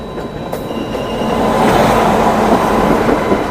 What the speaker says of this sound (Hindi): Rajdhani express, Howrah New Delhi Rajdhani express